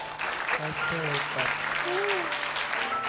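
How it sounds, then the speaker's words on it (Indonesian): Applause from a studio audience at an Indonesian religious talk show, a steady broadband patter running the whole time with a host's voice speaking over it. "boleh tepuk tangan untuk Uminya"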